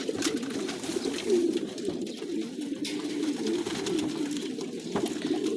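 Racing pigeons in a loft in Saudi Arabia coo steadily, a low continuous murmur of overlapping calls from several birds close by, with no talk.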